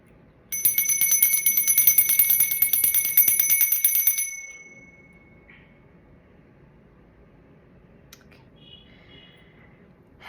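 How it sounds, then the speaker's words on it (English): A small hand bell is rung, giving bright, high, rapidly repeating chimes for about four seconds that then stop abruptly, followed by quiet room tone with a few faint clicks. "I'm just going to ring a little bell."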